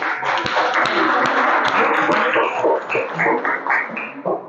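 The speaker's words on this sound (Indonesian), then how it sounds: "kita berikan aplaus yang terakhir untuk kelompok 3" Classroom audience clapping for a student group at a university teaching session: a brisk round of applause from a small crowd, steady for about four seconds and then tapering into scattered claps.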